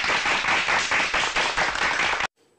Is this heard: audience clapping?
yes